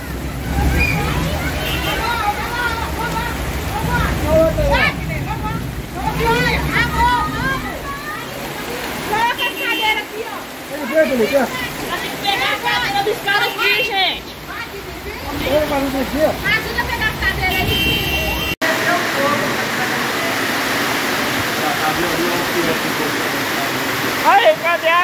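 Floodwater from a storm surges loudly through a town centre in Carmo do Paranaíba, Brazil, dragging skips and cars along, a constant close rushing roar with excited voices talking and shouting over it throughout.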